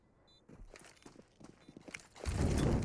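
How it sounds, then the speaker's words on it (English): Footsteps in CS:GO on the Dust2 map during a pro match, a run of soft, quick steps at moderate distance building in intensity, ending in a louder burst of game noise. "they've heard the footsteps"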